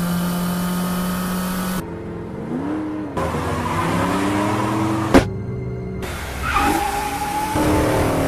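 A black Dodge Challenger revs and accelerates in a film scene, its engine note rising and falling across several loud passes with brief tire squeals and abrupt cuts between shots.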